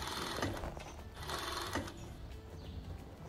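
A sewing machine stitches an elastic waistband onto a long dress. Its quiet, rapid chatter comes in short bursts that swell and fade, with no voices.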